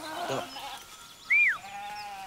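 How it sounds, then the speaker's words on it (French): Sheep (ewes) on a farm, with one clear wavering bleat in the middle, loud and fairly close, over quiet background with a faint other call before it. "On va traire les brebis. On va les rentrer."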